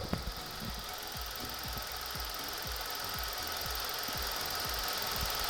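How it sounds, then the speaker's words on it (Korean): A 2018 Chevrolet Spark small car engine idles steadily, its low, even knocking pulses repeating at a regular rhythm under a constant hiss. "일단은 엔진음을 들려드릴게요."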